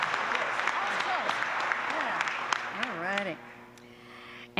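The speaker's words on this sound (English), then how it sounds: "Give her another round of applause." An audience claps at a state awards ceremony for student inventors, a steady patter of applause with a voice calling out over it before the clapping thins and fades away.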